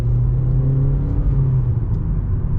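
A 2021 Hyundai Elantra Limited's engine hums low and steady, rising only slightly as the car gently picks up speed on light throttle, heard from inside the cabin.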